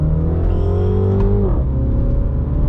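A Mini car accelerating hard, its loud close engine note climbing steadily, then dropping abruptly at a quick gear change before pulling again.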